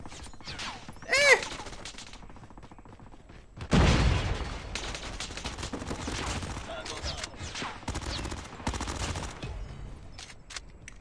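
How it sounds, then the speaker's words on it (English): Rapid automatic gunfire rattles in long bursts from Call of Duty Mobile, loud and dense, with a sharp blast partway through and game effects underneath. "Don't know what gun that is, but it sounds deadly."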